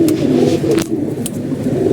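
A female pigeon coos in a low, continuous murmur close by, with the steady throaty tone running throughout and no talk.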